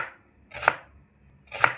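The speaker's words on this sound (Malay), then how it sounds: "bawang besar ni kita mayam. Mayam dia nipis-nipis" A knife slices thinly through an onion on a board: two crisp, evenly spaced cuts about a second apart, close and clear with no voices.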